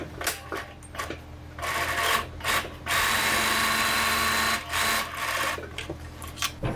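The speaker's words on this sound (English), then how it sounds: "I'm going to just top stitch it down" A sewing machine runs in short bursts and then one longer steady run, top stitching the folded-under edge of a fabric knot bag, with a close mechanical whir and rapid needle ticking and no voices.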